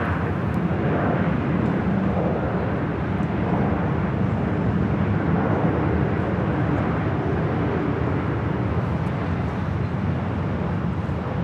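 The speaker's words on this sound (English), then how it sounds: "This is Southwest Airlines 2574 coming in from Denver, Colorado on the 737-800." Southwest Airlines Boeing 737-800 arriving at LAX from Denver, a steady, loud broadband jet roar with low rumble that holds evenly throughout without pause or voices.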